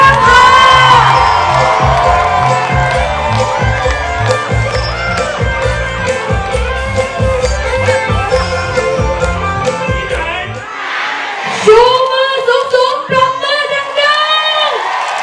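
A big crowd at a Pheu Thai election rally in Nan, Thailand, cheers loudly and continuously, with shouting, whoops and clapping. The roar swells again near the end as a voice calls out over it.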